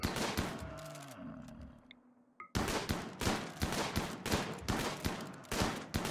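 Gunfire crackles in a RimWorld battle, with a shotgun among the weapons: rapid overlapping shots, a brief lull near the two-second mark, then a renewed dense barrage of sharp, repeated reports.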